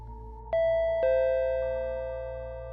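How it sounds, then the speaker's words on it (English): A door chime rings twice in a horror story setting, two bright struck tones about half a second apart, ringing on and slowly fading over a low steady hum. "before they could process what they'd just seen, the door chime rang again"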